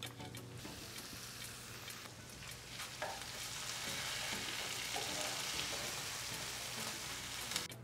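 Chili sizzling hard in a hot frying pan, a dense continuous crackle and hiss that swells slightly louder after the first few seconds, with occasional stirring clinks and no voices.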